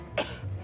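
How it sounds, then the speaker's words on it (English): A man gives a single short, deep cough, close and moderately loud, followed by a low throaty rumble. "you don't normally get a deep cough like that from a strained voice"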